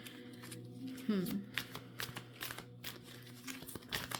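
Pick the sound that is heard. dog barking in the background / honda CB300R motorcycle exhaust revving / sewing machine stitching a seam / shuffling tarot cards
shuffling tarot cards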